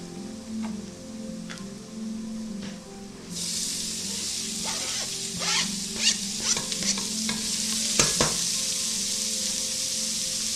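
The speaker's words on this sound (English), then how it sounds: "Now we go in with our onions." Onions tossed into hot flavored olive oil, a low sizzle that jumps to a loud bright crackle, then stirring scrapes and sputters continue, no talking.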